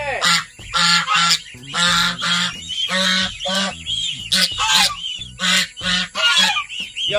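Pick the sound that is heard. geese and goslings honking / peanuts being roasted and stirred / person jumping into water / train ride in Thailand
geese and goslings honking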